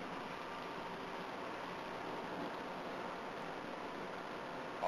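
Steady, quiet broadband hum and road rush inside a 1990 Mitsubishi Diamante cruising at 100 km/h at low engine revs on a public expressway, even and unchanging throughout with no voices.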